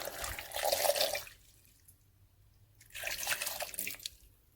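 Water is poured into a blender jar holding chopped fruit, coming in two short splashing bursts with a quiet pause between them, close by.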